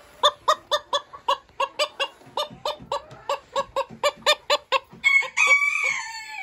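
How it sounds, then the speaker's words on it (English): A non-bearded Silkie bantam cock gives a rhythmic series of close, loud clucks, roughly two or three a second, and ends with a short crow-like call. "An example of the non-bearded Bantam Silky cock."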